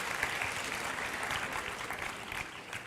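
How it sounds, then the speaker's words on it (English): Audience applause at a student group presentation during an international conference in Kanpur, a dense steady wash of many hands clapping at moderate volume throughout, with faint voices mixed in. "can we have a big round of applause for group 1"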